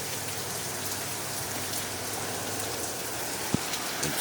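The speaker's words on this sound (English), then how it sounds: "we're finally getting some rain" Steady rain falls outdoors in a dense, even hiss of drops striking surfaces, with one brief sharper tap near the end and no voices.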